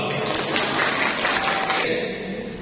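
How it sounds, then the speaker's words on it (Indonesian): Audience at a business talk in Depok clapping, a thick burst of crowd applause that holds steady and then thins out near the end. "Tepuk tangan dan semangat dulu."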